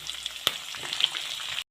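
Round-sliced green chillies frying in a pan for kadala rava upma, a bright crackling sizzle with a sharp pop or two, close and steady before cutting off abruptly.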